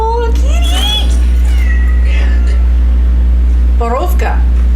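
A cat meows several times in the survival horror game Cronos: The New Dawn, rising and falling mews spread across a few seconds over a heavy low hum.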